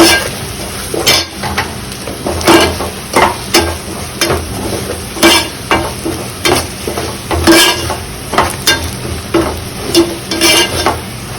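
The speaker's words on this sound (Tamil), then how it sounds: "மசாலாவை போட்டதோட ரா ஸ்மெல் போன வரைக்கும் நல்லா வதக்கி கொடுங்க, லோ ஃப்ளேமில் வச்சு" Fish curry masala with turmeric being sautéed in a pan on low flame for a mango fish gravy: loud, steady sizzling with a rhythmic series of spatula scrapes and stirs throughout.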